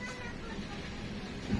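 Faint meows from pet cats travelling aboard a stopped train near Hyderabad, heard over a low rumble of background noise and murmuring voices.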